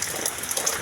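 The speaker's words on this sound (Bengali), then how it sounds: "কতটা বৃষ্টি হচ্ছে দেখতে পাচ্ছ" Rain pours steadily on a cloudy afternoon, a short unbroken wash of falling water with a soft hiss and splashing, close and even in loudness and with no voices over it.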